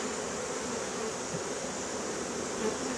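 Honey bees buzz steadily around a hive super set on a table during a fall colony inspection, a dense, even drone that holds close and constant throughout with no talking.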